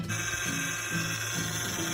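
A steady mechanical whine from a car's power steering, with a constant high hum joined by a few short pulsing groans, close and moderately loud, with no voices.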